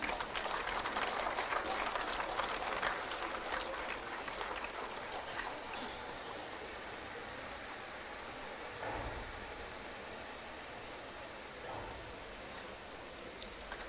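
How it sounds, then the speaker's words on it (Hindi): An audience claps steadily in a broad hiss of applause at a government ceremony where the chief minister hands out appointment letters. The clapping is loudest at first, then slowly thins and fades. "तालियां जोरदार हों।"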